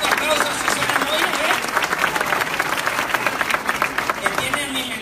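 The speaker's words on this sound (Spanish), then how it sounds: "Un aplauso a Susana Moya" Dense, sustained audience applause and cheering fill a large hall at a motivational business talk, with crowd voices mixed in and steady loud clapping throughout.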